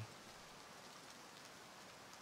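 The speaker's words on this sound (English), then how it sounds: "Too bad it started to rain." Rain falls steadily on an outdoor scene where mule deer are being watched. It makes a soft, even patter and hiss with no pauses, quiet and uniform throughout.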